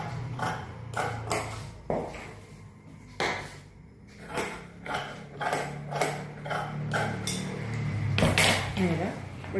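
Scissors slice through saree blouse fabric in a run of quick, crisp snips with short pauses between cuts. A voice talks quietly underneath.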